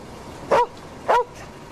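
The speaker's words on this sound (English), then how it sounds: "Friendly dog." A dog gives two short, sharp barks about half a second apart, close and fairly loud over a quiet room background, with faint fainter yips trailing after each.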